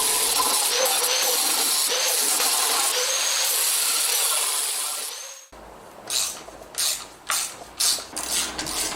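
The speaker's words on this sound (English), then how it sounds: "This was just a quick personal test to see if we prefer the paint removal discs or the flappy discs for the angle grinder" An angle grinder fitted with a paint removal disc strips paint from a mower, giving a loud, steady abrasive hiss and whine for about five seconds, then stopping, followed by several scattered clunks and knocks.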